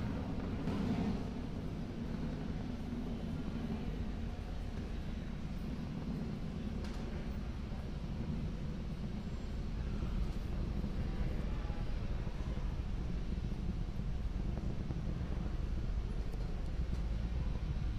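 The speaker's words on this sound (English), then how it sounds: "The Falcon 9 rocket is now throttling back up to full speed as it ascends through the atmosphere." A distant Falcon 9 rocket climbs after max Q, heard as a faint, steady broadband roar and rumble that swells slightly partway through, with no voices.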